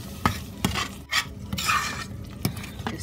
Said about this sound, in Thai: แล้วก็เอาน้ำหางกะทิที่เหลือค่ะใส่ลงไปผัด